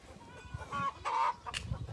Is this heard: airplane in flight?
no